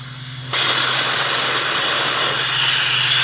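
Refrigerant spritzes from a car A/C recharge port in a driveway: a sudden loud, close hiss bursts on and sprays steadily for about three seconds, easing slightly near the end.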